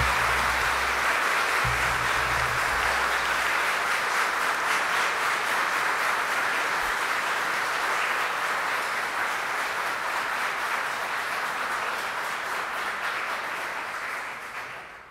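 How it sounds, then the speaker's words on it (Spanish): Sustained audience applause at a Supreme Court swearing-in ceremony for new lawyers: dense, even clapping from a large room that holds steady for about fourteen seconds before tapering off at the end. "El público les puede brindar un merecido aplauso."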